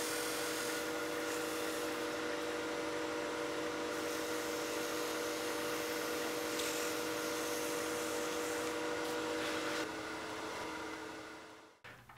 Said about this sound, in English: I'll burnish the surface. I just got a handful of the shavings we used